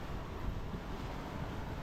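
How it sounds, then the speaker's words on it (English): Strong wind of about 17 to 18 knots buffets a sailing boat crossing Hervey Bay, roaring steadily into the microphone with a broad rush of wind and surf and no voices. "15 to 20 knots of wind. It's blowing at about 17, 18 knots now."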